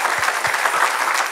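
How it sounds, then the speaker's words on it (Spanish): Brief burst of enthusiastic applause from a church congregation praising the Lord during a sermon, with dense clapping and a few low thumps, loud and close. "Denle un aplauso al Señor."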